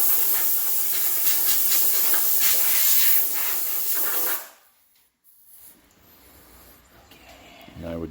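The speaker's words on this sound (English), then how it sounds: "And I would just Spray a little. yeah, just a light coat on that face. Get some WD on here." An aerosol can of WD-40 lubricant sprays a light coat onto the hub face of a 2001-2010 PT Cruiser during rear hub replacement, a loud steady hiss lasting about four seconds before cutting off to quiet workshop ambience.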